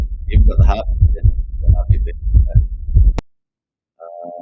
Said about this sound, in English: You've got the heartbeat there.